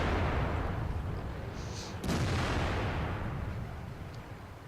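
A tank cannon fires once in World of Tanks during a heavy-tank battle, a sharp close blast cutting through a constant loud roar of engine and battle noise.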